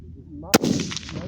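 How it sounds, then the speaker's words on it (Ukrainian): A single sharp, very loud PGW Coyote rifle gunshot cracks close by, recorded near the muzzle, followed by a brief echoing tail and a faint murmur in the background. "дуже важко передати точний звук пострілу"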